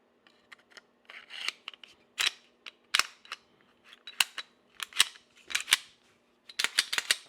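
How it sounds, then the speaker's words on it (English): Metal and polymer parts of a SIG Sauer P365 Fuse pistol with a threaded barrel clicking and scraping as the slide goes back onto the grip module, a close run of sharp clacks and rasps, no talking. "Let's go ahead and put it back on the grip mod."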